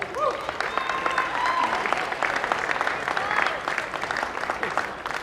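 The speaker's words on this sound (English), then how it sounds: "another quick round of applause for our cheerleaders" Crowd applauding the cheerleaders at a high school boys' basketball senior night, a dense, loud ovation of clapping in a gym, steady throughout with voices and cheers mixed in.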